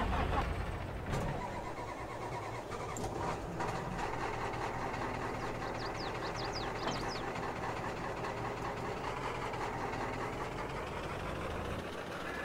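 A pickup truck engine in the Farming Simulator game revs and accelerates hard, a loud, sustained mechanical drone with a rising pitch that carries on without a break.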